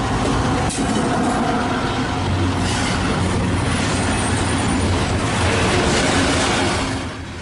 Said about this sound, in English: our train is making its way towards Logan Hill.